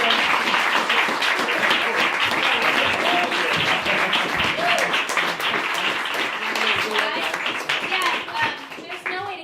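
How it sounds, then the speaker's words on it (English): Loud, sustained applause from a concert audience fills the whole stretch, dense clapping continuing steadily without a break and tapering only slightly near the end. "Another applause for everybody out there."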